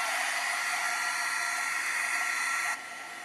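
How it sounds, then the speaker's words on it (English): A handheld heat tool blows steadily to dry watercolor paint, a loud, continuous close-up whoosh of hot air that drops slightly in level near the end. "I'm going to take my heat tool. I'm going to zap all this because I want all of this to be dry"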